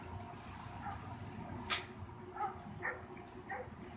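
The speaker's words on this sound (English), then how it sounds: "That dog will kill us." A dog in the video game Brothers: A Tale of Two Sons gives a few short barks and yips over a low, rumbling game ambience, spaced across a few seconds at moderate distance.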